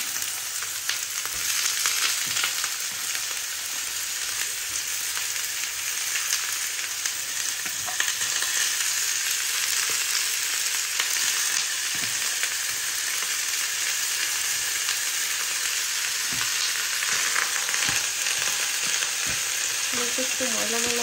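Cut potatoes fry in a pan with a continuous close, loud sizzle, broken by occasional stirring scrapes and clicks, with no talking.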